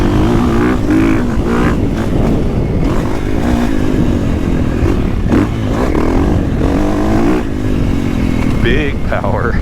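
A 2023 KTM or Gas Gas motocross bike engine revs hard while riding, a loud continuous rasping roar rising and falling with throttle changes, wind noise and clatter mixed in throughout.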